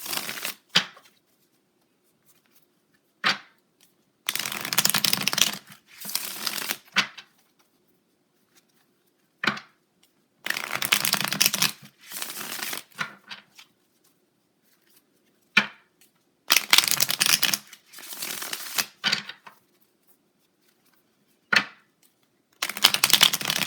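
Tarot cards being shuffled in repeated bursts of riffling, each a second or two long, separated by near-silent pauses and a few sharp single taps or snaps, close and clear with no talking.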